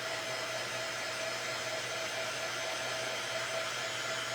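A hair dryer blowing steadily on paint dots on Scrabble tiles, a constant close whooshing hum with no breaks.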